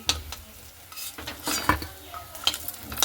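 Stuffed pointed gourd (potol) fries in oil with a soft sizzle, broken by several sharp scrapes and clinks of a utensil against the pan, close and fairly loud.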